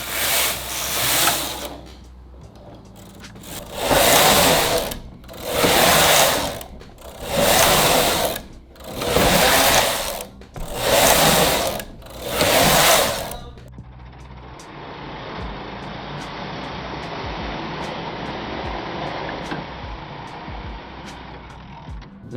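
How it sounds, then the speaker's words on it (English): Knitting machine working plain stitch for a sleeve, with about six loud rhythmic carriage passes that sweep back and forth, followed by a softer steady mechanical whir. "now we're just gonna knit plain stitch for the rest of the sleeve"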